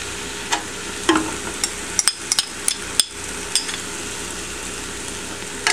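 Garlic and chilies tipped into a pan of frying translucent onions, with a sizzle under sharp utensil clacks and scrapes against the pan, close and irregular.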